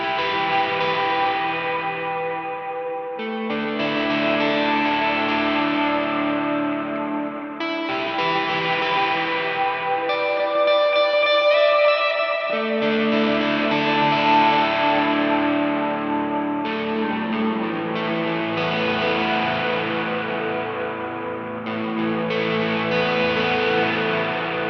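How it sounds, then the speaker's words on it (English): Electric guitar played through a DemonFX Reverb and Delay Workstation pedal, sustained chords and melodic lines washed in heavy reverb and echo trails, steady and loud with brief gaps between phrases, no talking. "we're going to be checking out the DemonFX Reverb and Delay Workstation"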